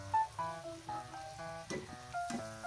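Chicken marinated in garlic and biryani powder frying in its own rendered fat in a pan, with a steady close sizzle and occasional louder pops and spits.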